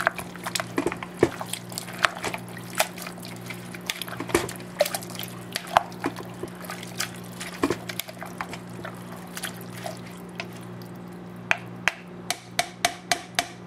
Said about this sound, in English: Then just going to stir this up.